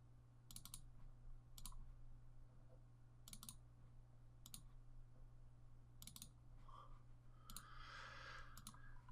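Sparse mouse clicks during spreadsheet work, mostly quick double-click pairs spaced a second or two apart over a low steady hum, close and quiet with no talking.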